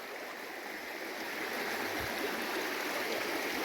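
A mountain stream flows beneath an old wooden bridge in the highlands, producing a steady, even rush of water that is moderately loud and fills the whole scene without pause.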